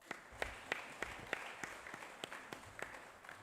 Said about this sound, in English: can we give him a final clap?